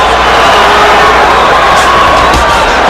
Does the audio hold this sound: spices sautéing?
no